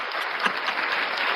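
Applause sound effect played during a live stream of a college football talk show, a steady, dense wash of clapping at moderate level that holds evenly throughout without pause, with no voices over it.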